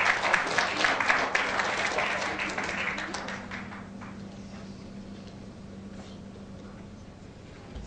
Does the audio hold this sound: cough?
no